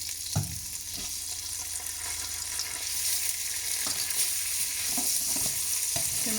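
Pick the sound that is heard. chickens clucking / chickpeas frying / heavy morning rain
chickpeas frying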